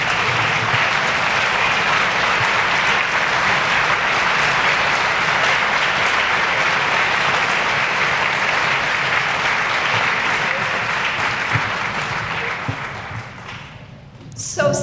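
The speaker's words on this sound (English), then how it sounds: "Can I ask Audrey's family just to stand up for a second so we can applaud you?" Sustained audience applause fills the room at the grand opening of a community active-living center, a dense, steady clapping that continues at full strength for most of the stretch before thinning out near the end.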